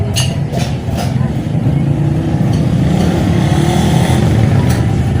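Small stationary engine-driven machine, an Eta 2671, runs steadily close by with a constant low drone and light mechanical rattle throughout, with a faint voice in the background.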